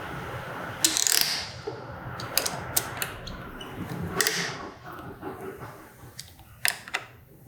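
Ratchet wrench clicking in short bursts while tightening the clip-on handlebar bolts on a 2018 BMW S1000RR, a Driven Halo bar install; close, crisp pawl clicks spaced across the clip over a low workshop hum.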